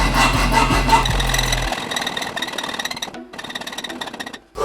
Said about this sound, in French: Je vais me la jouer avec une fucking scie à métaux.